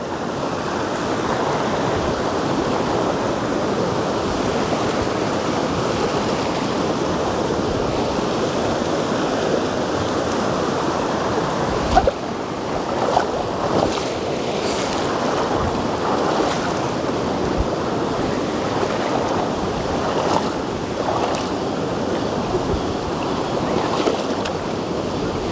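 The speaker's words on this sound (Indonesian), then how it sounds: "ini sungai yang kedua yang akan kita lewati. Lumayan cukup besar." A fairly large river flowing at Curug Sabuk in Sumedang: a loud, constant rushing of water with wind buffeting the microphone and a few knocks and splashes partway through.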